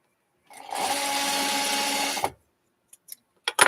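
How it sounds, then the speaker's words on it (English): A sewing machine stitches a quilt block in one fast, even whirring run of about two seconds, then stops, followed by a few small mechanical clicks and taps nearby. "let's see if I can sew it on a little straighter this time"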